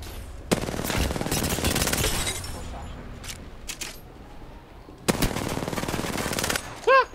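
Gunfire in the video game Apex Legends: a long, rapid machine-gun burst, a few scattered single shots, then a second sustained automatic burst, loud and close.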